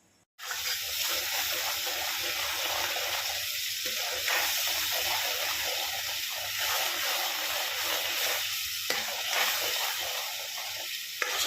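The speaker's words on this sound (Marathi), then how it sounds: "मिक्सरला लावलेलं सर्व वाटण आपल्याला छानपैकी तेलात फ्राय करून घ्यायचं आहे" Ground masala paste frying in hot oil gives a steady, close sizzle and hiss that runs almost the whole time, with a few brief stirring scrapes.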